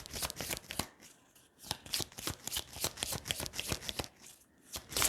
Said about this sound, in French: Alors, je vais couvrir les cartes.